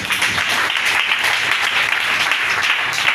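A church congregation applauding together during a worship service, a dense, sustained wash of clapping that stays loud and steady throughout with no talk over it.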